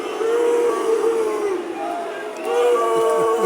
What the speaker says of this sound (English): Corinthian sportsman of the Millwall end booing Millwall putting the ball out of play on purpose there.